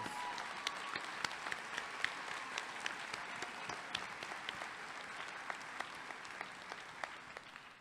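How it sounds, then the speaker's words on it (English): Audience applause at a college commencement ceremony, a sustained, fairly distant patter of many hands clapping steadily, slowly tapering off toward the end. "Please offer your applause."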